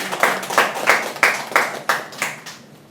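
Steady, evenly spaced claps ring out about eight times in a row, close and distinct, at a regional election-year policy debate forum in Gyeongbuk, with no talking.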